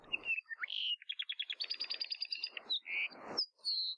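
Apapane, a Hawaiian forest honeycreeper, gives a varied song of whistled notes, a rapid buzzy trill and sharp chirps, close and clear with no other sounds.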